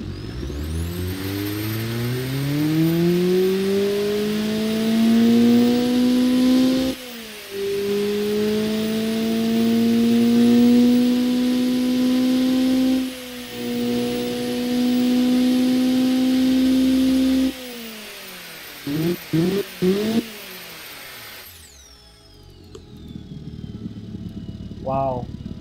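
A tuned Honda D16V1 engine, now making 220 horsepower, fires up and idles loudly, then climbs through several long revs and a few sharp throttle blips before cutting off near the end.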